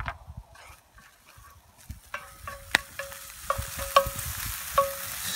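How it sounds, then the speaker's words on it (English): Food frying in a pot for poutine gets stirred, with scraping and clinking of a utensil against the pot over a soft sizzle, several distinct knocks scattered through. "Stir that up a little bit."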